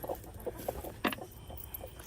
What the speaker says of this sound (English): And I still have some broody hens.